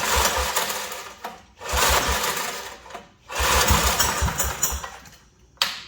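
A Wheel Horse RJ58 lawn tractor's small engine running on choke, loud and close, surging in rough bursts that cut out briefly between runs, with an uneven chugging putter.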